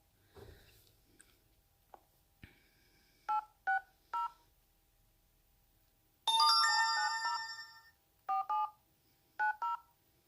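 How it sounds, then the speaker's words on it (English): An outgoing call on a MOQI i7s gaming phone: a few soft keypad tones, then a loud ringback burst followed by short repeated ringing tones with gaps between them, close to the phone and without voices. "I'm gonna try to make a call."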